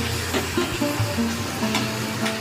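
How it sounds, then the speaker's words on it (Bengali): Turmeric, chili and cumin powder sauté in a pan with a soft, steady sizzle and some low clatter and scraping as the spices are stirred, alone without speech. "ভালো করে মশলাটা কষিয়ে নিতে হবে।"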